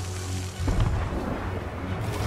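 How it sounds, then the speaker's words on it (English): Cannon fire striking a ship in Sea of Thieves: a deep rumbling boom with a low thud of impact rolls through steady wind and ocean noise, with no voices. "We might be taking some cannon fire"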